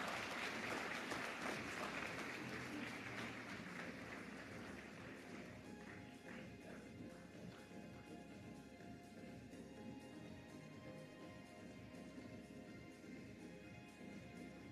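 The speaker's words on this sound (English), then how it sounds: "A huge round of applause, ladies and gentlemen." Audience applause at a brand awards ceremony, a sustained dense clapping from a large crowd that starts loud and gradually thins and softens, with no talk over it.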